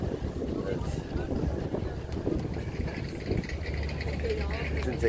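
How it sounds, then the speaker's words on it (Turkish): A low, steady tour boat engine drone carries under constant wind and sea water wash, with voices talking in the background. "Bütün tekneler hareket halinde."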